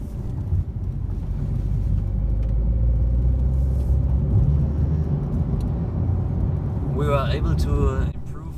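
A Porsche 911 Type 992 heard from the passenger seat on the Hockenheim track, a deep steady engine rumble and road roar under a narrating voice, with a brief rising engine note near the end.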